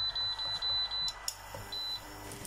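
An electric hob gives a run of short, evenly spaced electronic beeps as its cooking mode is switched on, then a brief click and a final chime in a quiet kitchen.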